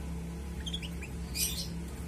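Faint, soft chirps and twitters from a crested canary over a low steady hum, a few brief calls scattered across a couple of seconds.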